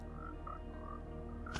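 Frogs croak in a video game, a steady low rhythmic pulsing with a few higher chirping croaks over a constant ambient hum, and a short sharp click near the end.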